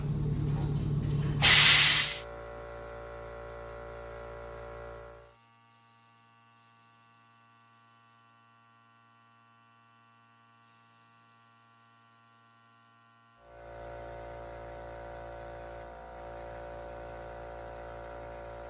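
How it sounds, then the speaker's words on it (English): A steady mechanical hum and hiss of a small shop air compressor runs, stops for several seconds of near silence, then starts up again, with a loud burst early on. "Sorry about the compressor noise."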